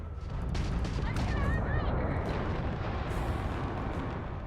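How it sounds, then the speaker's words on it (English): An enemy spaceship blowing apart in Starfield, a loud, dense rumbling explosion with crackling debris that roars steadily for several seconds, with a voice speaking faintly beneath the blast. "After destroying an enemy ship, you can loot the remains from your cockpit."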